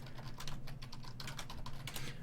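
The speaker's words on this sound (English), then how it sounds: "Sorry, I'm typing." Rapid, irregular clatter of keys on a computer keyboard during a hockey podcast, close to the microphone over a low steady hum, with no talking.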